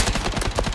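Rapid gunfire bursts in the Blood Strike shooter game, dense overlapping automatic shots with sharp repeated cracks filling the short moment, loud and close.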